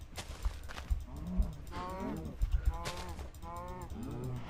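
Blocky cows mooing in Minecraft, several low drawn-out moos one after another over faint background game noise.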